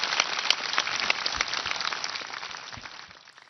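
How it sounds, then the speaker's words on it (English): Applause from an audience at a school graduation ceremony in Erbil, steady crisp clapping from many hands that fades out toward the end, without speech. "Please join me in another round of applause for these speakers from our graduating class."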